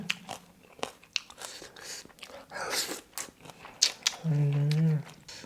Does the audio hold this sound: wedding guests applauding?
no